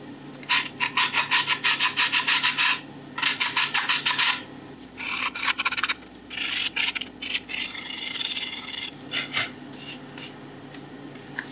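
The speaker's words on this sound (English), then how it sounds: "I'm going to use 100 grit sandpaper and a blocking pad to sand this off" A Yamaha TDM 900 motorcycle fairing being sanded by hand with 100 grit sandpaper on a blocking pad, brisk rhythmic rasping strokes in fast bursts, close and loud, pausing briefly between passes.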